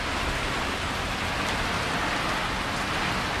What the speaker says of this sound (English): this is downpouring.